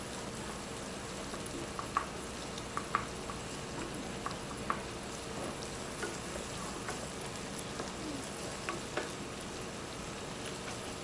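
Chopped onion sautéing in a pan gives a steady, quiet sizzle with a few sharp ticks and pops scattered through it, at middling distance and with no talk.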